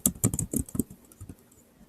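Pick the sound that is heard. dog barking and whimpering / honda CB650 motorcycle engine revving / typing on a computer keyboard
typing on a computer keyboard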